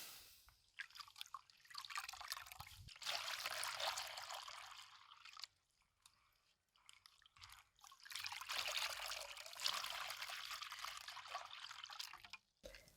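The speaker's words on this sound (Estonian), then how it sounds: "Loputan lõnga korralikult mitme veega." Dyed wool yarn, colored with haircap moss, is rinsed in water, with trickling, dripping and splashing that come in two longer bursts separated by quieter pauses, fairly soft and close.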